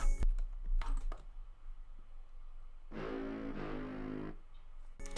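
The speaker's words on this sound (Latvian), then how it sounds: "Šīs brass plus woodwind izklausās aptuveni šādi." A brass plus woodwind synth preset plays one sustained chord of about a second and a half, framed by short clicky transients before and after, fairly quiet with no speech.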